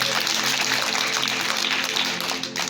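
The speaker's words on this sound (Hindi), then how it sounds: "तालियां मरे सो एक बार" An audience at a magic show claps in a dense, continuous wash that holds steady and then thins out near the end.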